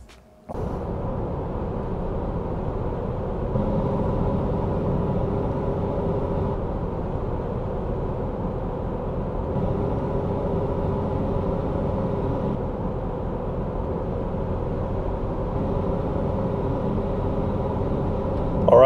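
A Volkswagen Passat B5 on a road test drive gives a steady, muffled in-cabin road and engine rumble that holds constant throughout, with no talking.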